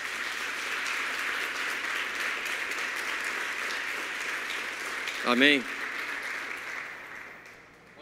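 A church congregation at a worship service gives sustained applause for Jesus, a dense, steady roar of clapping. A single voice calls out briefly near the end before the clapping tapers off.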